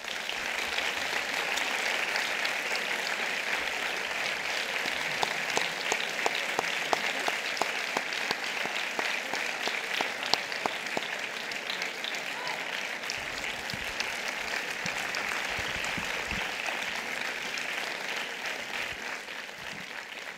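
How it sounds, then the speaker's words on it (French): A long, steady ovation from a large audience at a French inaugural conference, the dense clapping holding level and close for about twenty seconds. "un tonnerre d'applaudissements pour la Belle Boîte"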